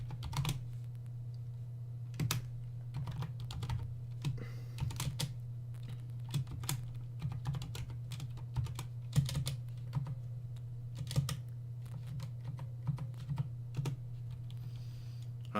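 Keys on a computer keyboard are struck in quiet, irregular clusters of sharp clicks over a constant low electrical hum.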